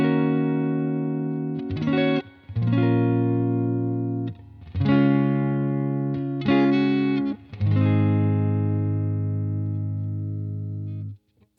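Clean electric guitar played through a UAFX Dream 65 amp simulator pedal modeled on a Fender Deluxe Reverb, running in stereo with no drive: sustained ringing chords struck about five times, each fading slightly before the next, with no voices.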